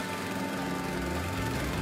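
A riding lawn mower from ISEKI runs steadily on a grassy slope, its engine drone loud and continuous with a rear-discharge deck cutting grass, no talk heard.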